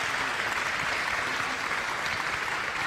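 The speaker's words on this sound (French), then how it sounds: "Je vous demande d'applaudir Morad Lag-Haris" Sustained, dense applause fills a regional Talents des Cités event hall as an audience welcomes a guest on stage, steady and even throughout with no voices standing out.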